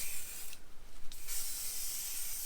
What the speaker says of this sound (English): and then I'll just spray the baking paper